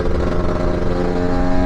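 A Lambretta or Vespa scooter with a performance exhaust and lower gearing revs loudly and close up, its engine a steady rough buzz with no one speaking.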